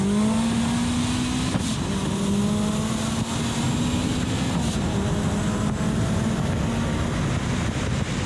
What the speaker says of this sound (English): So here's a quick clip for you, just showing how quick this thing is compared to Stradman's Bugatti Veyron